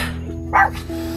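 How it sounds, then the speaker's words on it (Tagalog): A dog gives a single sharp bark over a steady hum of background noise, close and fairly loud. "tahol ng mga alaga ko eh."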